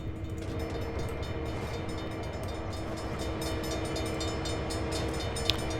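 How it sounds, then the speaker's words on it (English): A CSX heavy-haul freight train in Train Sim World rumbles steadily and loudly throughout, with sustained horn-like tones layered over the continuous rolling drone and a brief sharp click near the end; no one speaks. "Let's get back to our cab and actually begin driving in a Train Simulator."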